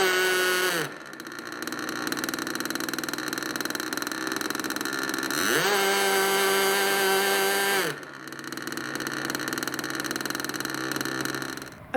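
An MVVS 0.49 glow engine with a tuned pipe, fitted to a Ripmax Bullet model plane, screams at high revs close by. It drops to a lower idle twice and climbs back to a shrill, steady whine between the drops.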